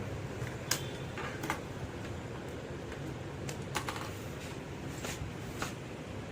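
Computer keyboard typing, a soft steady patter of keystrokes with a few sharper clicks standing out over a low background hum, with no talking.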